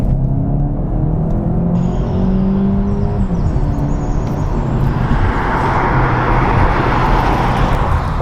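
Volkswagen Golf GTE plug-in hybrid hot hatch with 201 horsepower accelerating hard in GTE mode, a loud continuous engine drone that rises in pitch and builds into a broader roaring whoosh as speed climbs.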